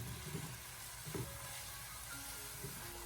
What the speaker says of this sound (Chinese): 然后再继续的将它翻炒几下，把它翻炒均匀，给它炒出锅气